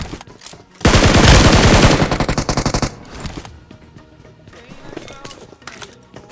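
Bursts of automatic gunfire in the BGMI battle royale game: a dense, loud rapid-fire volley lasting about two seconds, then quieter scattered footsteps and game sounds, with someone talking over it.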